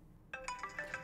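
A phone rings late at night in a Russian melodrama film, a melodic electronic ringtone starting after a brief silence and repeating its bright tones loudly and alone.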